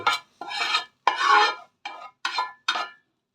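A spoon scrapes fried spice mix out of a hot pan onto a plate in six short, rasping strokes, close and dry with brief pauses between them and no talking.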